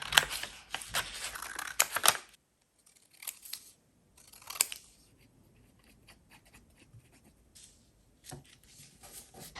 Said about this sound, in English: And then I'll just cut around this.